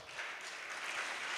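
Applause from an audience at a Pisa anniversary celebration for the 46th Brigade, a soft, steady wash of many hands clapping together, somewhat distant and even in level throughout.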